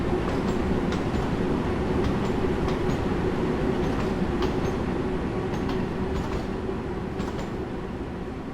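Bakerloo Line London Underground train running in Train Sim World 3, a steady loud rumble of wheels on track with regular clickety-clack beats throughout.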